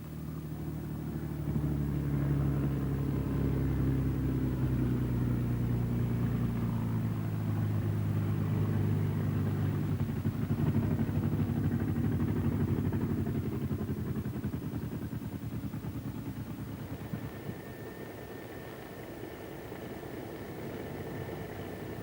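A P-39 Airacobra's engine drones steadily as the plane taxis, its low tones slowly sliding in pitch and then settling into a quieter, even hum with a thin whine.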